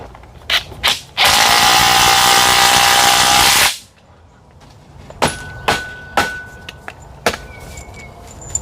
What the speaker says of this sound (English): Next we're going to sink our lag screws, holding it up to where we had it initially set.